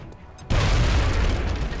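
A grenade blast in the strategy game XCOM: Long War, a sudden loud boom after a quiet moment, followed by a sustained rumbling roar of debris.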